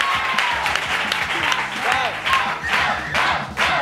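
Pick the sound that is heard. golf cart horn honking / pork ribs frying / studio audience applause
studio audience applause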